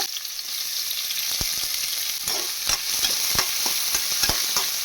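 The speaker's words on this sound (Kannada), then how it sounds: "ಕಟ್ ಮಾಡಿಕೊಂಡಿರುವಂಥ ಈರುಳ್ಳಿ ಕಡ್ಡೆ ಹಾಕೊಳ್ಳೋಣ" Onions dropped into hot oil with cumin seeds and green chilies on low heat, frying with a steady bright sizzle while a utensil stirs, its scrapes and taps sounding at irregular intervals close by.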